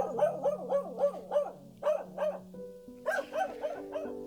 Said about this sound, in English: There's a dog going crazy outside the window right now.